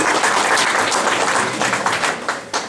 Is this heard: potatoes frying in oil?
no